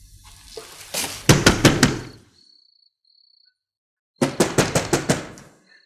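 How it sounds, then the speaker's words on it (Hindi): Knocking on a house door: a fast run of four or five firm raps, a quiet gap with a faint high tone, then a second run of about six raps, loud and close. "इस बात को छोड़ो, तुम दरवाजा खटखटाओ"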